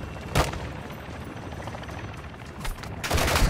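Gunfire in Call of Duty DMZ on the Ashika map, with sharp bursts of shots near the start and a heavier volley at the end over a steady rumble of combat noise.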